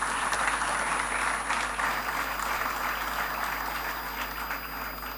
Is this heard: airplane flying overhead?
no